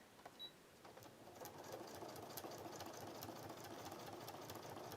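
A sewing machine runs steadily as it stitches through foam, a continuous close mechanical whirr building after a brief start and holding without talk.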